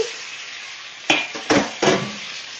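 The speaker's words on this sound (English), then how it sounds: "now we're going to add our noodles into the pan" Kimchi noodles dropped into a hot frying pan, a steady loud sizzle broken by three sharper hissing surges as the noodles hit the oil and are moved about.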